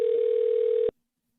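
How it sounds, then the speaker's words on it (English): A telephone tone on an outgoing prank call plays as a single steady electronic beep lasting just under a second, then cuts off into silence. "I'll just keep trying different caller ID, Stephanie."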